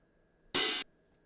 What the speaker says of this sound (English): it is also an open hi-hat sound and sounds like this.